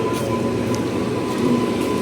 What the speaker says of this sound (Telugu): ఇదే మన train, Kollam special fair Sabarimala super fast express,